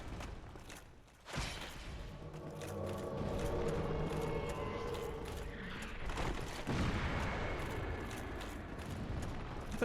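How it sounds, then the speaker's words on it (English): A gunshot effect in the video game Dark Souls, one sudden sharp blast followed by a long loud rumbling roar with a second swell later, dense and sustained. "There's a gunshot sound effect."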